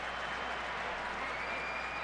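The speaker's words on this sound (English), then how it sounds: "We get a nice round of applause." Steady applause from a large baseball crowd at a New York Yankees at Minnesota Twins game in 2004, a broad, even wash of clapping lasting the full two seconds with no voices on top.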